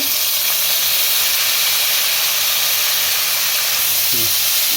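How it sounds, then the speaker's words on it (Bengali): Onion paste hitting hot oil while cooking a light katla fish curry with potatoes, giving a loud, steady hiss and sizzle that fills the whole stretch without a break. "এরপরে আমি পেঁয়াজ বাটা দেব"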